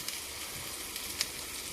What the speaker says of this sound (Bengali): পটল ভাজাটা বসিয়ে দিয়েছিলাম, প্রায় হয়ে এসেছে